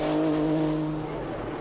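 1984 World Sportscar racing cars brake into the La Source hairpin at Spa, a loud engine howl with tonal whine and tire squeal that fades slightly over a short burst.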